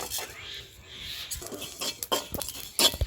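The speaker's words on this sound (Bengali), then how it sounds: "এবার জিরাটা ভেজে নেব।" Cumin seeds are roasted and stirred in a pan, with a few close, irregular metallic clinks and scrapes of a utensil against the cookware. The sounds are brief and spaced out over a quiet background.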